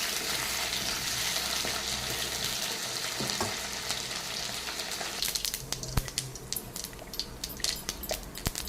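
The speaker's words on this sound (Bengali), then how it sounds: "এখন আলুটাকে সুন্দর করে আমি ভেজে নেব।" Potato pieces frying in oil for a rohu fish curry, a steady broadband sizzle that later breaks into sharper crackles and scraping stirs as the pieces are moved, close up with no talking.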